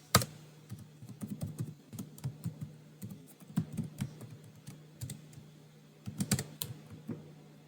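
Code being typed on a computer keyboard during a constructor programming lesson, with irregular bursts of close, crisp key clicks separated by short pauses, no talking.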